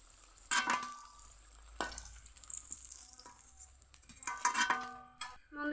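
Onion and potato snacks frying in hot oil, a steady soft sizzle with intermittent clinks and scrapes of a utensil stirring and lifting pieces from the pan, close by with no talking.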